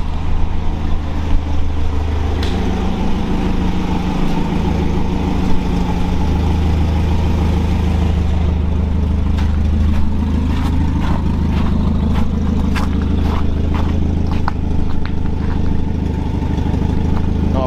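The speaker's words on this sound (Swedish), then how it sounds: "Nu ska jag köra in den igen och testa om den startar i alla fall." A Volvo 740 engine with an exhaust leak runs steadily at idle, a loud continuous low rumble throughout with some faint clicking and tapping in the later part.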